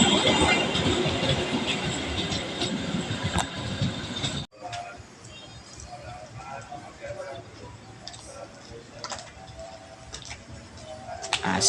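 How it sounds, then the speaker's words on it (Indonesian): Indonesian passenger train U77 carrying economy-class cars rumbles past loudly with rhythmic wheel clatter. It then drops to a quieter, steady ticking rattle as the run continues. "Kereta api U77."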